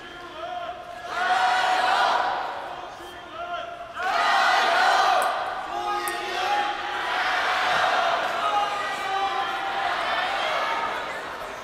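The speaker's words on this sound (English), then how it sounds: "Crowd getting a bit excited about their player." A large crowd in a table tennis stadium roars and chants excitedly in surging waves, loud and sustained, with a few sharp impacts under the noise.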